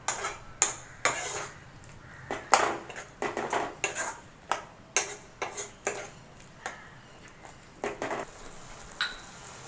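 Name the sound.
mixing spices into okra tamarind curry base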